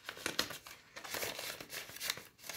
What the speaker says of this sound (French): je mets 2 billets de 10, pardon, dans l'enveloppe Action